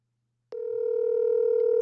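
A telephone call to a Glendale McDonald's rings unanswered: after half a second of silence, a steady, clear ringback tone starts abruptly and continues alone without any voices.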